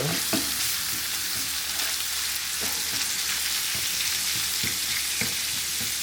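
Raw pork sizzles and spits in a hot pan while being stirred for Asian pork noodles, a steady bright frying hiss broken by repeated scraping and clacking of a utensil against the pan.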